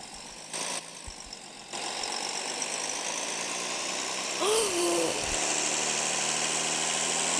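A tractor engine idling nearby with a steady, low mechanical hum and rattle, continuous throughout, with a short tonal whine or call briefly rising above it midway.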